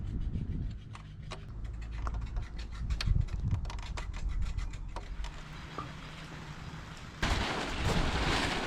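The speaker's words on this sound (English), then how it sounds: "And it just started raining." Rain begins to fall outdoors, with scattered sharp taps and patters landing on surfaces over a low rumbling background, then a louder burst of hiss near the end as the shower picks up.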